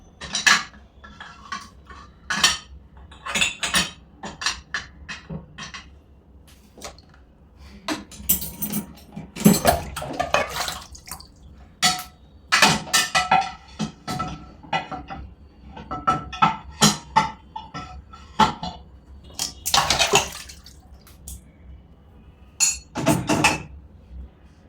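Pots, plates and cutlery clatter and clank as they are stacked into the racks of a Midea two-rack dishwasher, with irregular bursts of close metallic and ceramic knocks separated by short pauses.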